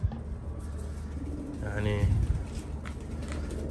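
Pigeons coo in a low, rolling burst at a bird market, close by, while someone talks over the steady crowd murmur around them.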